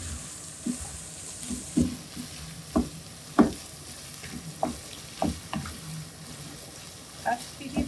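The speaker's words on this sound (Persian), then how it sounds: "در این فاصله که رب رو تفت میدم" Tomato paste fried in a pan while being stirred for macaroni, a continuous sizzle broken by repeated scraping strokes of a utensil at an uneven rhythm, close and moderately loud.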